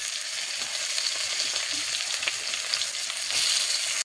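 Onions fry in hot oil for chicken kasha, a loud, steady, crackling sizzle that runs without a break and swells toward the end, with no talking.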